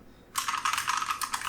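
Rapid typing on an Input Club K-Type mechanical keyboard fitted with Halo True switches: a quick, steady run of crisp, close keystrokes starting abruptly after a brief quiet moment, with no talking.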